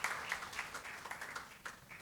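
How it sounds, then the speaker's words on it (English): Faint, distant audience applause at a panel discussion on human-centric AI, a soft continuous patter of many hands clapping with no voices. "Please clap and welcome him on the stage."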